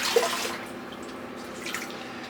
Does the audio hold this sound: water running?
yes